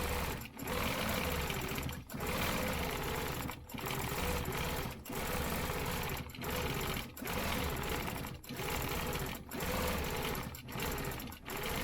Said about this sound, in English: I'm going to go ahead and stitch the rest of these.